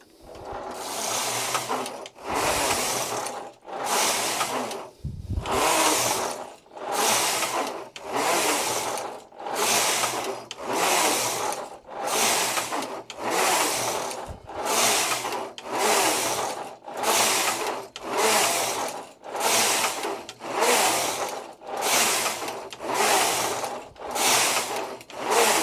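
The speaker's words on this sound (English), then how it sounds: "I'm going to knit some rows using the same card design in slip stitch" A knitting machine carriage sweeps back and forth knitting rows of two-colour slip stitch from a punch-card design, giving a loud, regular series of rasping passes, each a couple of seconds long, with no talk.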